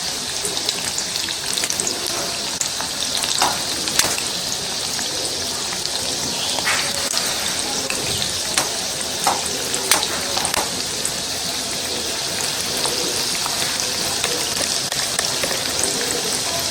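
Corn bhaji fritters frying in hot oil, a dense continuous sizzle with scattered sharp pops and crackles, close and steady throughout.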